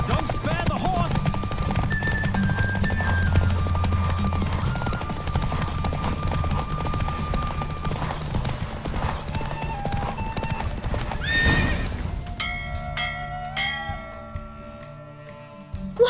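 A horse gallops in a Witcher 3 race with rapid, steady hoofbeats, then neighs near the end as the galloping stops, with game music and voices in the background.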